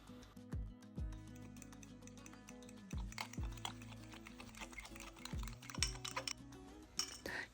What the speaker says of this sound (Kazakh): бір ыдысымызға қантымызды салып, және де жұмыртқамызды қосып, жақсылап қантымыз ерігенше араластырып аламыз